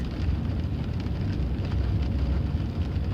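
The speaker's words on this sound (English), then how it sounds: "We must be happy about this rain." Rain falling outside heard through a slightly open window, a steady dense patter with a low rumble of passing traffic underneath, continuous and fairly loud.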